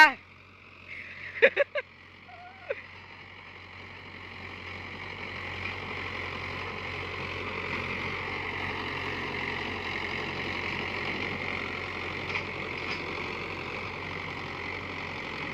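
A Mahindra Yuvo Tech+ 585 tractor pulls a 9-tine cultivator across dry farmland. A few short knocks come first, then a steady, moderately loud engine drone rises and holds.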